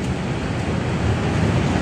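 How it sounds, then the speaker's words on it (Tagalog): Wind blowing across an unfinished concrete second floor of a house under construction: a steady broadband rush, loud and close, with no voices. "Sarap ng hangin pa dito."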